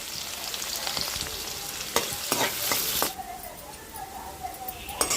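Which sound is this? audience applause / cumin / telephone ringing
cumin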